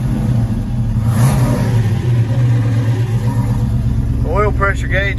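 A 1971 Boss 351 V8 cranks and fires, then holds a loud, rough, throbbing rumble close by, with a voice speaking briefly near the end.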